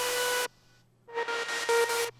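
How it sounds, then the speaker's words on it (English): Bright, buzzy synth bursts with a noisy edge: one sustained burst, a short pause, then a run of pulsing notes ending abruptly. "which is basically just noise modulated saw waves"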